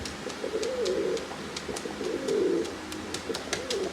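Repeated low, rolling pigeon coos, close and clear, with a few faint bird chirps in the background; no talking.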